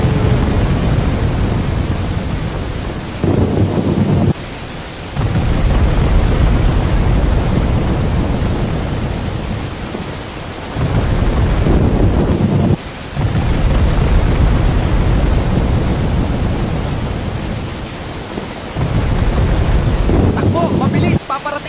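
A tropical storm lashes the countryside with steady heavy rain, wind buffeting the microphone and rumbling thunder rolling through, loud and continuous with a few brief lulls; no one speaks.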